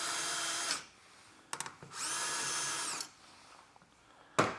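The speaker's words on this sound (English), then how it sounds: "I'm gonna go ahead and pre-drill my next 2 screw locations." Power drill pre-drilling screw holes for Blum undermount drawer slides, running in three close bursts: a long whine, a short spurt, then a second long steady run, with a brief start at the very end.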